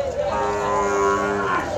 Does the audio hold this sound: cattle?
yes